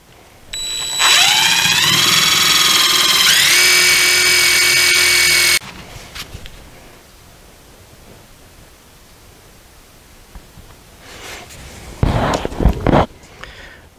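An electric drill boring dowel holes through an oak rocker: a loud, steady motor whine that rises in pitch as it spins up and runs for about five seconds, then stops, followed by quiet and a few brief knocks.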